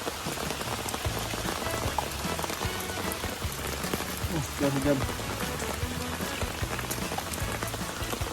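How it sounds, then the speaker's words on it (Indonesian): Steady rain pours down by a river during shrimp fishing, a dense, continuous patter close by that fills the whole stretch with no break. "Hujan guys."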